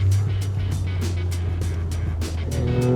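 A 1977 Maserati Merak SS engine drones steadily at a low pitch, with a regular series of sharp ticking pulses over it, heard from inside the car.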